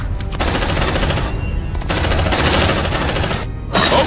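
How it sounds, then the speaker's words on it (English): Rapid automatic gunfire in the sci-fi video game Aliens: Dark Descent, loud, continuous bursts of machine-gun fire broken by two short pauses, with no talk. "Focus fire and target!"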